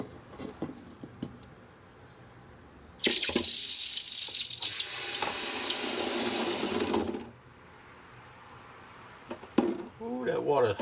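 Hot water gushes from a tap into a sink during a silver-casting session, a loud steady broadband rush lasting about four seconds before cutting off, with quieter clinks and handling sounds around it.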